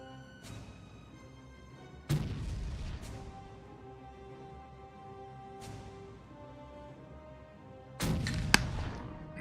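Ship cannons in Caribbean Legend: Age of Pirates fire in several heavy booms spaced a few seconds apart. Each lets a long ringing tail fade into quiet, and the last comes as a louder, closer cluster of blasts.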